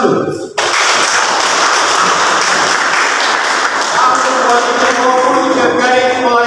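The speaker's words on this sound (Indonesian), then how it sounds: "Tepuk tangan dulu" Audience applause at a year-end official speech ceremony, loud and continuous after a brief opening cut, with some faint tonal sounds rising near the end.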